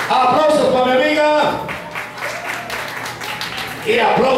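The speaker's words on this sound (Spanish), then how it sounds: "Aplausos para mi amiga" Brief audience applause at a singing contest awards ceremony, clapping mixed with crowd noise between stretches of an amplified voice speaking.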